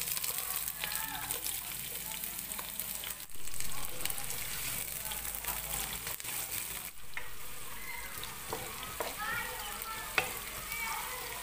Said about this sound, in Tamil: எண்ணெய் லைட்டாக சூடானது, நம்ம இப்போ வெங்காயத்தை சேர்த்துடலாம்.